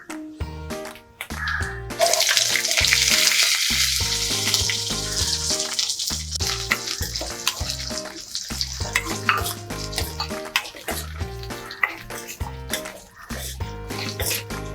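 Shallots, dried red chillies, garlic, ginger and green chillies frying together in a pan for mango chutney, a steady close sizzle with stirring scrapes and spatters, loud and continuous without talk.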